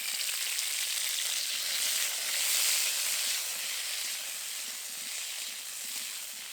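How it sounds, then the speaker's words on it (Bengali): Jujube berries sizzle in hot mustard oil with dried red chilli, bay leaf and five-spice seeds, a steady, dense frying hiss that swells slightly midway and carries on without talk. "এবার এর মধ্যে এই কুলগুলো দিয়ে দেব"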